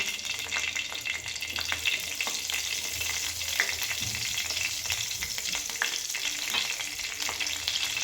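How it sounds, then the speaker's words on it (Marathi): Green chillies fry in a spoonful of oil on an iron bhakri griddle, giving a steady, dense crackle and sizzle with sharp pops scattered throughout, close and continuous with no voices. "आता त्यात मी या मिरच्या टाकून घेणार आहे"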